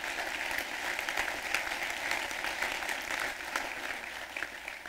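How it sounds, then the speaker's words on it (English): An audience at a chamber of commerce State of the City address in Denver claps together in a round of applause, dense and even, heard from across a large hall at moderate distance. "will you give them a round of applause for their tremendous work in partnership?"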